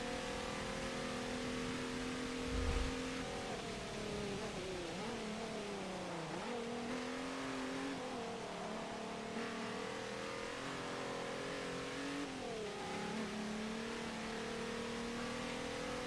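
An open-wheel race car lapping in a racing video game, its engine droning steadily and rising and falling through gear changes and corners, heard alone at a moderate level.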